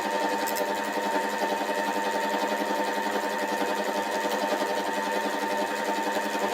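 A sewing machine stitches a seam on a fabric pot holder with a steady, even mechanical whir that runs throughout without voices.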